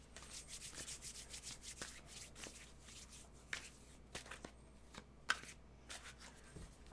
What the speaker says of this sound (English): So you can shuffle.